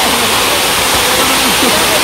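Karugo Falls pours as a loud, dense, continuous roar of water that fills the whole clip, steady and close.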